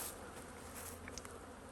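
Honey bees in a hive box hum in a steady, low, faint drone, with a few individual insects buzzing briefly closer.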